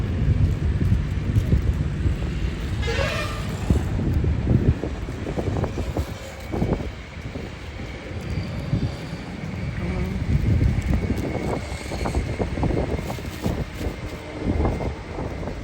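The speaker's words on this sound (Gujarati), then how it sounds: "પવન બહુ છે નહીં પવન વધારે પડતો છે" Strong wind buffets the microphone in a steady, heavy roar, rising and falling in gusts throughout.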